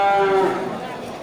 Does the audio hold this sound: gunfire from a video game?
no